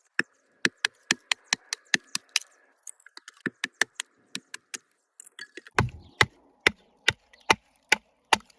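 An Auxiliary Manufacturing Pocket Bowie knife is batoned through wood, a series of sharp, evenly spaced knocks, about a dozen quick strikes, a short pause with lighter taps, then another run of crisp hits.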